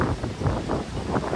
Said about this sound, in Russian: ветер такой дует прям постоянно